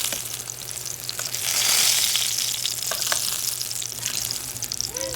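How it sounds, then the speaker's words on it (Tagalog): Eggplant fries in hot oil for kare-kare, a steady close sizzle and crackle that swells briefly, with light scraping and stirring sounds over it. "Unahin ko munang iprito yung mga talong."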